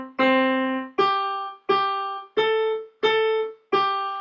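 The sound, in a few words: piano playing simple melody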